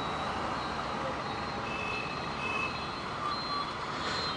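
Heavy road traffic in Mumbai, with a steady loud roar of trucks and other vehicles close by and reversing beeps repeating through it, continuous throughout with no speech.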